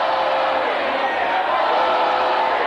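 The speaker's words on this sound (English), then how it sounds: "And the crowd chants boring" A high school basketball crowd at a 1987–88 Gate City Blue Devils vs Dobyns-Bennett game chants 'boring' in a loud, steady, rhythmic roar that fills the gym.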